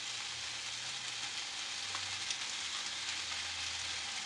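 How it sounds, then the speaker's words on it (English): Cooked ground turkey going into a hot pan of spicy Asian stir fry with green beans, a steady close sizzle and crackle with a few small pops over a low hum, no voices. "I'm going to go ahead and add some of my ground turkey"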